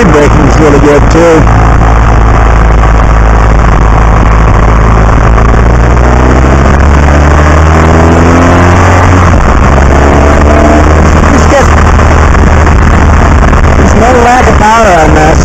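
A 2015 BMW R1200 GS Adventure motorcycle engine drones loud and close while riding, its pitch rising and falling through throttle changes and engine braking, with wind rush and a rider talking over it.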